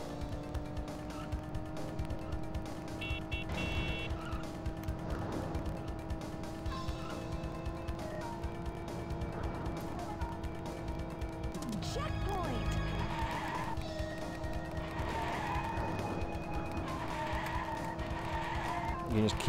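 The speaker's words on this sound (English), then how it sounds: "I'll try to drift this." Tyres screech and skid through a drift in the arcade racer Cruis'n World on the Nintendo 64, under a steady droning engine and game music, with a louder skid burst near the middle.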